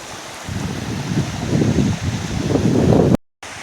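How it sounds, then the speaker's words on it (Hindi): Water from the Tamber waterfall rushes in a steady broadband roar on a rainy hillside, close and strong, with a short dropout near the end. "ये देखो पीछे जो पानी आया है ना वो टम्बर धोत से आया है"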